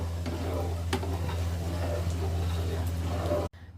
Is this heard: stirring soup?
yes